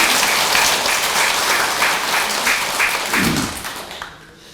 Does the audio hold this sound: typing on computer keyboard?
no